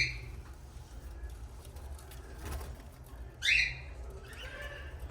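Rainbow lorikeets in an aviary giving a couple of sharp, shrill squawks, one louder burst midway, over quiet background hum.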